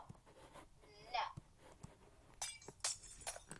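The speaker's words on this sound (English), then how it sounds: "Why does it sound like glass?" A glassy, breaking-glass-like clinking from the Minecraft video game comes in a few bright bursts, with soft thuds and faint background voices between them.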